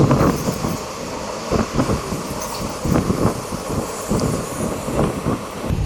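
Express train 17662 on the Basara to Kachiguda run pulling away after a one-minute halt, rolling wagons giving rhythmic wheel clacks and rumbling over steady background noise, no voices.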